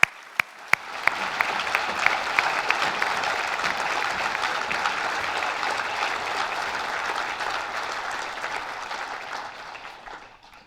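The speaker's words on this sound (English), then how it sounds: "let's all give another round of applause to all the men and women who received recognition tonight" An audience at a police merit awards ceremony breaks into a sustained round of applause that runs nearly eleven seconds. The clapping begins with a few scattered claps, swells to a dense, even roar, then slowly thins toward the end.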